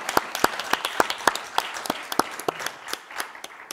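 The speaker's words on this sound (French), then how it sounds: "Je peux l'applaudir." Scattered clapping from a small audience at a Nantes urban-arts forum, about a dozen separate claps at an uneven pace, fairly close but modest in volume.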